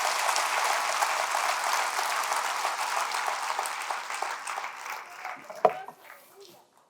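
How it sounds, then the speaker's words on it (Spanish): A church congregation gives sustained applause at a Friday service, a dense wash of many hands clapping that slowly thins out and ends in a few scattered claps and a sharp knock. "Dele otro aplauso al Rey bendito."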